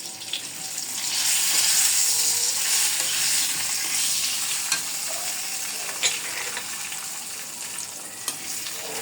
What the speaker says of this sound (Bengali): নাড়াচাড়া দিয়ে সবগুলো উপকরণ মিশিয়ে দিচ্ছি